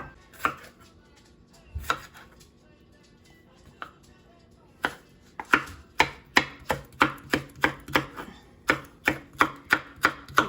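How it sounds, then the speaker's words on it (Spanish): A knife chops vegetables into long thin strips on a board for mango chicken: a few spaced cuts at first, then a quick, steady run of sharp, close chopping strokes. "Esto lo voy a picar siempre tiritas largas y delgaditas"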